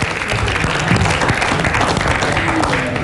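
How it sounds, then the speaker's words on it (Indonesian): A studio audience on an Indonesian quiz show bursts into dense, continuous applause, close and full for a few seconds. "Kita berikan tepuk tangan."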